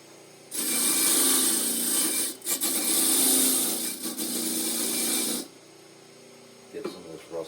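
A power tool grinding rust off a Sears tractor three-point hitch, a loud, steady, harsh whir that runs for about five seconds with a brief dip partway, then stops, leaving quiet clatter.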